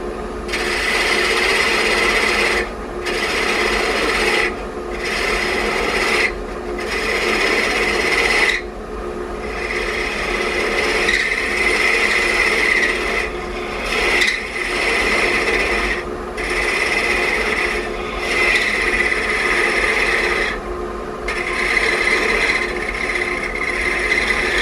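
A wood lathe turns a wine glass stem down toward half an inch, and the tool cuts and scrapes in a steady, close rasp. Short pauses break up the passes, with the motor hum running underneath.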